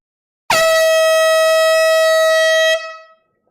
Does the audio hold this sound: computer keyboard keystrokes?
no